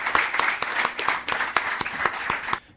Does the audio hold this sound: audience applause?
yes